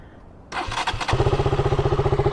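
A KTM Duke 200 motorcycle engine cranks and catches, then settles into a loud, steady, throbbing idle with a rhythmic pulse close by.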